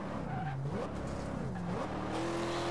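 A racing car engine in the video game Forza Horizon 2 hums with shifting pitch while tires skid and squeal, a continuous synthetic game-like roar with steady loudness.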